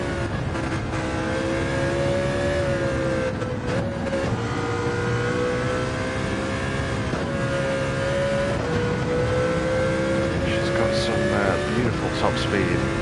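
A race car engine in Gran Turismo 7 on the wet Circuit de la Sarthe holds a loud, steady high drone with slight pitch shifts as it accelerates and briefly eases off, with a voice speaking over it.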